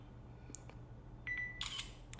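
Asus Zenfone 2 Laser phone camera shutter, a couple of short electronic ticks and a brief beep followed by a quick bright shutter burst, close and crisp over a low background hum.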